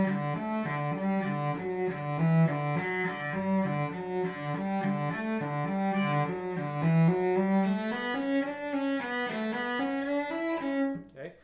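A solo cello plays the sixth movement of an intermediate lesson piece at a slow tempo, a sustained, legato melody with steady bowed notes that fades out at the end.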